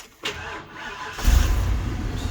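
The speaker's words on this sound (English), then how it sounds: "I'll start this 460 up." A fixer-upper truck with a 460 engine and a slightly loud, imperfectly repaired exhaust cranks briefly, catches and settles into a deep, rumbling idle, recorded up close.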